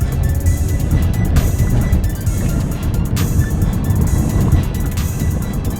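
A 2007 Pontiac G6 with 148,000 miles and freshly serviced transmission accelerates hard, its engine roaring loud and close in a steady broadband rumble with brief dips as gears shift.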